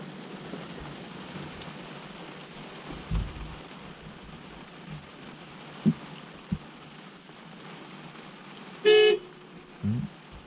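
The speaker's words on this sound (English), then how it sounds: "So we know the horn works anyway" Horn of a Mazda MX5 gives one short toot near the end, then a second briefer blip, over a steady backdrop of rain-like hiss and a few soft knocks.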